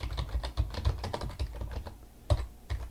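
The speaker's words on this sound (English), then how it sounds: "So I'm going to type in my link right now." Fingers tap steadily on a computer keyboard entering a web link, a close run of quick clicky keystrokes with one brief pause and no talking.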